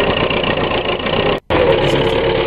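A tractor engine from a played clip drones loudly and steadily, cutting out for a brief instant midway before the same rough running noise resumes.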